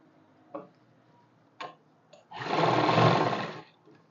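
Sewing machine stitching trouser fabric, a single sustained mechanical run of about a second after a few faint isolated clicks, fairly close and without talk.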